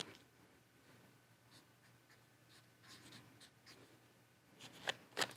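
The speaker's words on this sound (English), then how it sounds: "I'm going to write on this sticky note" A pencil scratches across a sticky note in a kindergarten setting, with faint, soft scribbling strokes at low level that end in a few sharper, louder scratches near the close; no one speaks.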